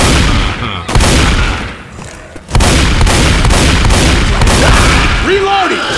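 Rapid gunfire in Left 4 Dead 2, loud bursts and volleys of shots with a short pause partway through, while voices shout over the shooting.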